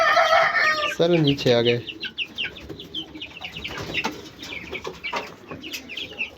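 Aseel hens and a rooster cluck and squawk loudly close by in a backyard pen, with a burst of sharp calls early on. Someone talks over the birds.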